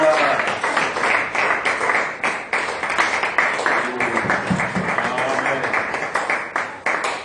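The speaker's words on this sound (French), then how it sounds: "Donnons une forte acclamation." A church congregation at a Sunday service gives loud, continuous applause, many hands clapping in a dense, steady rhythm, mixed with voices and cheering throughout.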